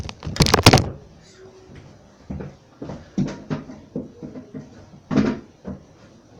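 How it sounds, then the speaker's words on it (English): Porcelain lid of a 2017 Kohler Wellworth toilet tank set back in place, giving several close, heavy clunks and scrapes followed by lighter knocks and shuffles. "let's put the tank lid back on"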